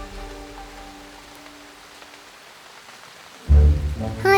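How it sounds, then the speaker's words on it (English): Rain patters softly and steadily on a surface around a toy Thomas the Tank Engine scene, faint and continuous, before a sudden loud thump near the end. "This rain isn't going to stop anytime soon."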